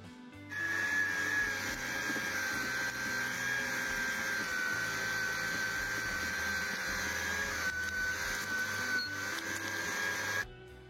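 Electric meat grinder pushing first-grade meat for ham sausage through a coarse plate with large holes, making a steady, loud motor whine with a high-pitched tone that runs unbroken for about ten seconds with no talk.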